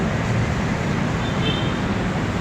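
Steady roar of busy city street traffic, many vehicles passing at once from a sidewalk in a downtown area, a dense continuous wash of engine and road noise with no clear break.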